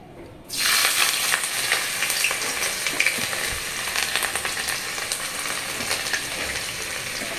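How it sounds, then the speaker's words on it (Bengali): Dried red chili, bay leaf and chopped ginger hit hot oil with a sudden loud burst of sizzling that settles into a steady crackling fry, close and continuous with no talk. "তেলটা গরম হয়ে গেছে একটু শুকনো লঙ্কা ফোড়ন দিলাম না দিলেও হয় তেজপাতা শুকনো লঙ্কা প্রথমে আদা কুচিটা দিয়ে দেবো"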